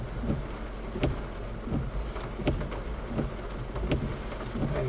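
Heavy rain pours steadily during a New Mexico thunderstorm, with repeated sharp cracks and rumbles of thunder breaking through the constant wash of falling water.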